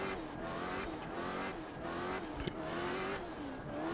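Late model stock car in a racing video game at Slinger, weaving side to side and braking in low gears, its engine note rising and falling continuously and loud throughout.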